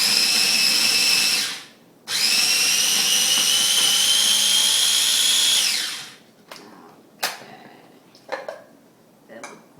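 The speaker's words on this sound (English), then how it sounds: "put them in a food processor, and we're going to grind them" A food processor grinding mushrooms for a Polish mushroom sauce, a loud close whirring motor running in two long bursts with a brief pause between, then stopping and followed by light clatters of the lid and blade.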